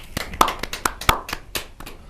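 A handful of sharp, separate claps at a Hindi poetry gathering (kavi sammelan) as a poet is welcomed, sparse and uneven, sounding close and crisp rather than like a full crowd.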